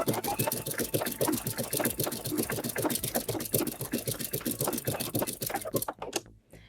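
A sewing machine stitching the leg of a corded buttonhole, a rapid, steady run of close mechanical needle strikes that stops abruptly at the end.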